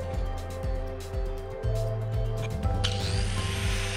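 An angle grinder grinds down welds on a steel frame in repeated short passes with a pulsing motor hum, ending in a sustained bright hiss of metal contact, close and without speech.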